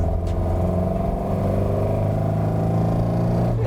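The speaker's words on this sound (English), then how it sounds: "that sort of nice raughty 4-cylinder induction noise, don't you, on the inside of this Frontline take on an MGB" Inside a Frontline MGB restomod, the four-cylinder engine gives a loud, steady, raspy induction drone, holding an even pitch from start to finish.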